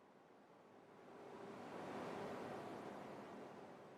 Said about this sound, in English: this little bit of automation kind of sounds like waves crashing